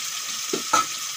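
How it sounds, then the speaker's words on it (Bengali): Fish frying in a pan for a kochur shag dish, a steady close sizzle with a couple of brief stir clicks, no talk over it. "ভালো করে মাছগুলো ভেজে নেব"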